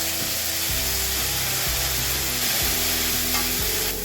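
Kolmi shak (water spinach) fries in a pan with a constant loud sizzle, broken by rhythmic scraping strokes of a spatula stirring the greens.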